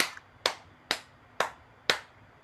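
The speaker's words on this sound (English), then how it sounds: "I felt those claps. I heard them." Five single hand claps ring out close and fairly sharp at an even, unhurried pace, each one crisp with a short decay and quiet gaps between them.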